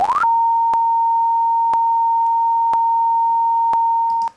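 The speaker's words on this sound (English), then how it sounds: "Every second we're getting that little click that's happening" A steady pure sine tone hums continuously, broken by a sharp click about once every second, five clicks in all.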